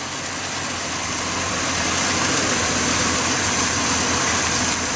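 A budget turbo 250 engine runs and idles after being revived, giving a loud, steady drone close by that swells slightly at first and then holds even, with no talk.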